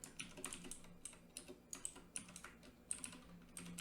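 Someone types on a computer keyboard to copy and paste code, giving quiet close clicks in short irregular bursts with brief pauses between keystroke clusters.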